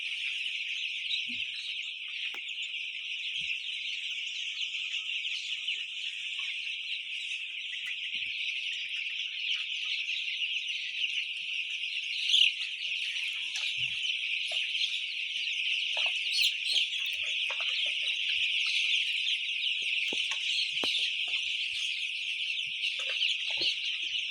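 A dense, constant chorus of high peeping from many small chicks on a poultry farm, steady throughout with no pauses and no talking.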